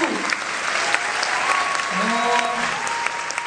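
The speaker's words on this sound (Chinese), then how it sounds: "那我们用掌声欢迎所有的乐手好不好？" An audience applauds to welcome the musicians at a live concert, a continuous wash of clapping with a few cheers, while a voice speaks over it.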